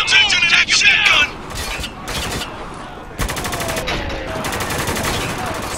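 Gunfire in the video game Spec Ops: The Line, with rapid automatic bursts and single cracks in an intense combat exchange, loud and close, mixed with game voices shouting.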